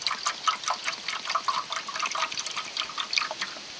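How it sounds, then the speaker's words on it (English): Water poured from a container into a larger pot on a stovetop setup for a double boiler, a steady splashing trickle with bubbly gurgles, close and moderately loud, running alone for several seconds. "I'm going to take my water and just pour a decent amount in the bigger pot."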